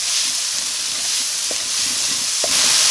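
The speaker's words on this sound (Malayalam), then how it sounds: "ഒരു 30 സെക്കൻഡ് സോട്ട് ചെയ്തതിന് ശേഷം" Tomato, capsicum and green chili sautéing in a pan with onion, ginger and garlic give a steady close sizzle with a couple of faint stirring knocks, and no one talks.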